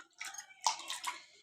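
Water splashes and sloshes in two short bursts close by as peeled jackfruit seeds are rinsed in a kitchen before cooking.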